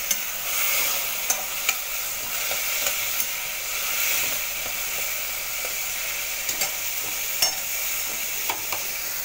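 Chana masala spices frying in a pan, a steady soft sizzle broken by sharp clicks and scrapes of a spoon stirring at irregular intervals.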